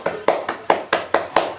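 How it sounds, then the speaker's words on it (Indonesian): A teacher's class claps in a classroom: seven sharp, evenly spaced bursts of clapping in steady rhythm, close and moderately loud. "Tepuk tangan dulu."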